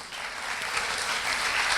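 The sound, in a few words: congregation applauding in church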